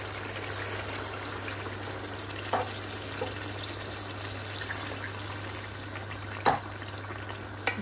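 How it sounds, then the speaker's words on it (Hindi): Water goes into a pot of frying chicken and potato curry, giving a steady close sizzle and bubbling with a low hum beneath and a couple of brief clinks of a utensil. "अब हम इसमें 2 गिलास पानी डालेंगे"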